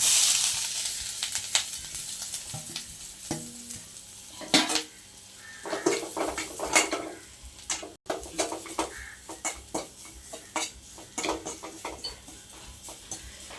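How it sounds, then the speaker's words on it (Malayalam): Spices sizzle in a little hot oil in a pan, with frequent clinks and scrapes of a metal utensil against the pan and faint birdsong in the background. "ശകല എണ്ണ അതിലോട്ട് ഒഴിച്ചിട്ട് ഈ സാധനങ്ങളങ്ങ് മൂപ്പിച്ചെടുക്കും"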